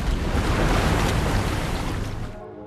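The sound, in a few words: ocean surf waves rolling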